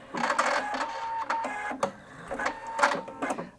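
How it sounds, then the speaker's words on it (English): Husqvarna Viking Brilliance 75Q sewing machine running its automatic scissor thread cutter, a close sequence of mechanical whirs, clicks and motor pulses lasting a few seconds. "the threads are cut for me"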